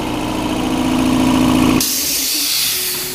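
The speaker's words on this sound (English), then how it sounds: "Wait for the compressor to pump up." An air compressor running loud and close with a steady motor drone, then abruptly cutting to a sharp, hissing rush of air that continues to the end.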